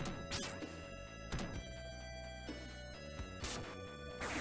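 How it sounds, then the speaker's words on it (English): Crystal cages are smashed in the Golden Axe 3 video game, sharp crashing hits recurring several times over steady retro game music, with no voice. "You can now add to your prisoner tally by smashing these crystal cages."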